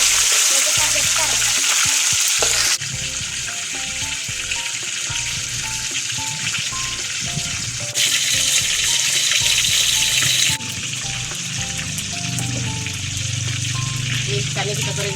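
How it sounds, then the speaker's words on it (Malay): Fish frying in a pan, a loud continuous sizzle and crackle with louder bursts as pieces go into the oil, under occasional talk and background music. "Ni ikannya kita goreng dulu."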